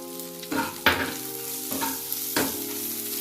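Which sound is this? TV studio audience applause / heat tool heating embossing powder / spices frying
spices frying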